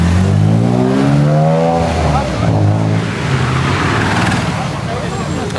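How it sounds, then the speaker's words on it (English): Several cars idle and creep along in a traffic jam at the Nürburgring, their engine rumble loud and continuous throughout, with a whine and some revving in the mix and a voice talking over it. "Big traffic jam."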